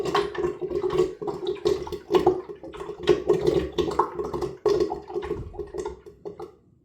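Water gurgling and draining from a bathroom sink during a shave, a steady bubbling, sloshing flow with irregular glugs, fairly close and continuous throughout.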